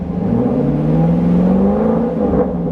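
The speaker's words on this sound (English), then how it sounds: "Rev it up one more time." A vehicle engine revs up steadily and holds at a raised, even pitch for a few seconds, loud and close, with no talking over it.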